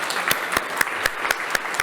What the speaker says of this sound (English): Let's give a round of applause for our AV guys.